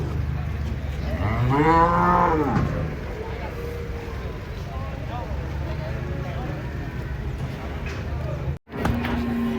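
Cattle are unloaded down from a truck, with a loud bovine moo early on and voices talking throughout in an outdoor setting.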